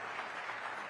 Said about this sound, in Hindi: तो जोरदार तालियों के साथ अभिनंदन करिए